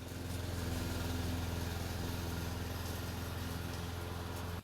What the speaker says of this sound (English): I've got to mow the lawn.